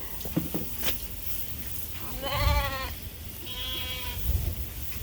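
Lambs in a sheep barn let out two clear, wavering bleats a couple of seconds apart, close by, over faint rustling and barn background noise.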